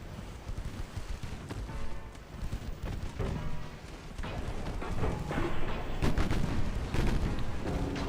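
Naval gunfire from warships in the video game Ultimate Admiral Dreadnoughts: repeated booming cannon blasts and rumbling salvos roll over a dense, continuous battle din at fairly low level.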